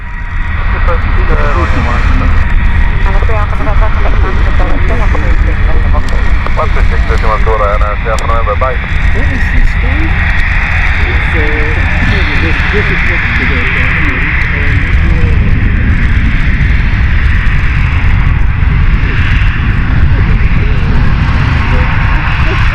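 A jet airliner in an unfamiliar livery passes close by at Stansted Airport, its engine roar loud and continuous throughout, with a steady whine. Someone talks over the noise now and then.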